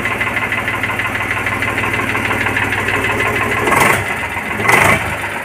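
An Eicher 485 diesel tractor idles close by with a loud, steady chugging knock, briefly swelling twice in short bursts near the end, with no one talking.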